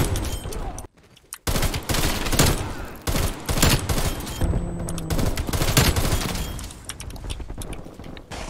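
Sustained AUG rifle fire in a multiplayer shooter video game rattles out in loud rapid bursts, with brief pauses between strings and faint crackling impacts.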